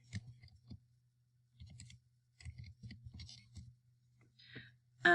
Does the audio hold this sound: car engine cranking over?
no